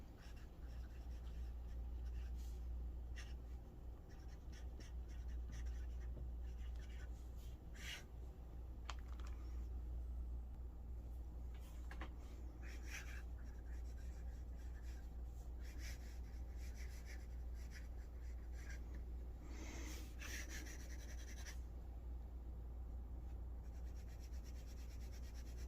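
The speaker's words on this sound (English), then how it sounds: "I'm actually going to take some more Tomoe River paper because I'm just kind of curious to see how this ink is writing on it" Fountain pen with Ferris Wheel Press ink scratching across Tomoe River paper, soft intermittent scritches and strokes, close and faint over a steady low hum.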